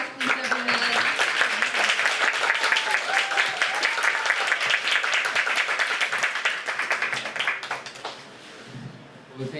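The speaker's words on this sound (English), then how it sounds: "Let's give a big round of applause to our amazing alumni." Sustained crowd applause and clapping from an audience honoring alumni at a communication arts program's 15th anniversary celebration, steady and dense for most of the stretch, then thinning out with a voice beginning near the end.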